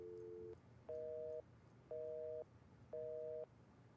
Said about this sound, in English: Sounds like she has her phone off the hook.